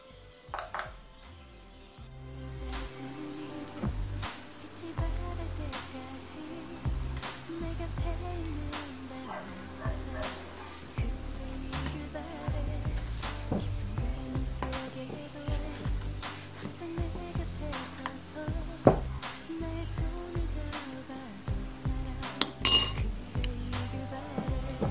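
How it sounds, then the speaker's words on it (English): Hotteok dough of milk, salt and flour being mixed in a bowl for Korean sweet pancakes, with steady clinking and scraping of a utensil against the dish running throughout, fairly close and without talk. "Mix dough."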